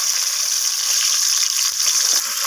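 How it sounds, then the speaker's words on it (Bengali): Raw tomatoes sizzling in hot mustard oil, a steady, bright, hissing fry that holds loud and close throughout, with no voices. "এখন আমি কাঁচা টমেটোগুলোকে দিয়ে দিলাম তেলের মধ্যে।"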